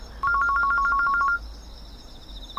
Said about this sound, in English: But her phone only kept ringing.